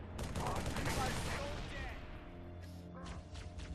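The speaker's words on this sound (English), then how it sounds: "here we go into this tank versus tank skirmish that's going on here" Gunfire and heavy explosions from a tank-versus-tank battle in the video game Halo ODST, a loud dense barrage that rumbles continuously and tapers slightly, with a few sharper bursts near the end.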